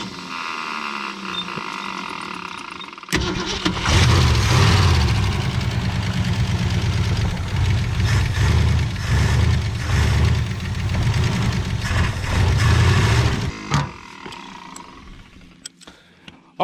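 A 1965 Ford Falcon or 1984 Thunderbird engine, low on water, starts after a quiet stretch with a sharp onset, then runs loud and rough at a fast idle for about ten seconds before cutting off and fading.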